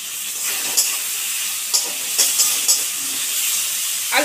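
Prawns fry in a hot pan with a bright, constant sizzling hiss, punctuated by several sharp scraping clicks of stirring, close and loud throughout.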